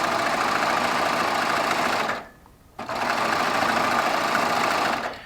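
A Baby Lock Triumph overlock serger sews a four-thread overlock stitch to attach quilt binding, running at a loud, steady buzz, pausing briefly for under a second, then running on and stopping near the end.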